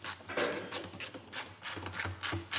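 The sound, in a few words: ratchet tightening gas tank bolt on KTM dirt bike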